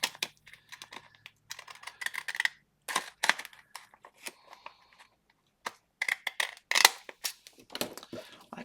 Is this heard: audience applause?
no